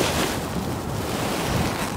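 Wind gusting across a golf course tee, a steady broadband roar buffeting the microphone, loud and continuous with no voices.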